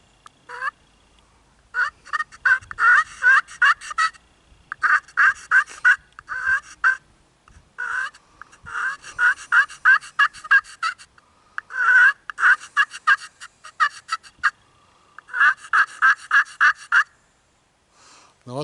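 A Primos Purple Haze turkey call, played straight out of the package without conditioning, gives bursts of rapid turkey yelps and clucks in close, loud series separated by short pauses.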